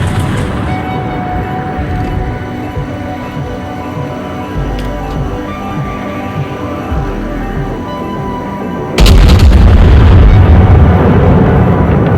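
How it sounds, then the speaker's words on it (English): A Tier 4 German battleship, the Kaiser, fires its main guns in a naval video game, one loud, sudden blast cutting in over a steady tonal music bed and lingering as a rumbling roar. "can I turn around and get some shots onto the enemy Kaiser to help our Nassau?"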